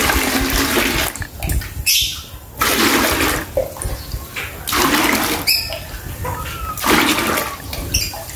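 Water splashes and gushes in repeated bursts as it is poured into a chick waterer, with brief pauses between pours.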